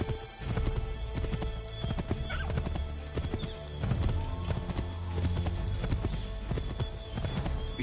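A horse gallops in Assassin's Creed III Remastered, with dense, continuous hoofbeats close up and a whinny rising above the pounding.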